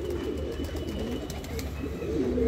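A pigeon perches on a house rooftop and coos in low, soft, rolling calls, repeated near the microphone over a steady background hum.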